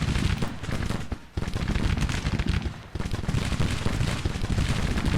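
Continuous volleys of musket gunfire from Civil War infantry in the Grand Tactician strategy game, a dense rolling crackle of overlapping shots that stays loud throughout, with two brief dips in intensity.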